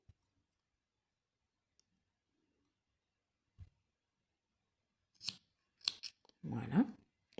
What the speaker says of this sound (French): Je coupe mes fils.